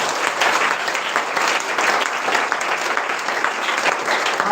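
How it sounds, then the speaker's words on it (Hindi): Loud, sustained applause from a congregation at a Friday church meeting, dense clapping running steadily without a break. "जोरदार ताली बजाओ।"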